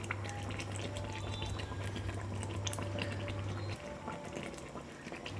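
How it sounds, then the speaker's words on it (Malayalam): Fish head curry gravy simmering in a pan, a steady low bubbling and sputtering boil with a constant hum underneath, close and fairly quiet, no talking. "ഗ്രേവി എല്ലാം വറ്റി കുറച്ചുകൂടി തിളയ്ക്കാൻ വെച്ചിട്ട്"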